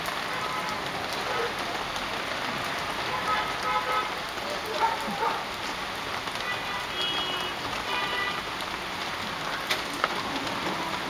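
Rain falls on a street in Beijing where people play Chinese chess, a soft, steady patter of drops on hard surfaces with scattered sharper splashes and faint distant city noise.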